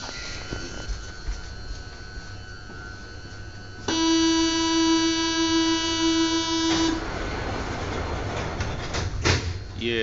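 Driverless metro train doors shut with a steady multi-tone closing chime, then the train starts pulling away with rising rumble and a brief squeal, all fairly close and loud.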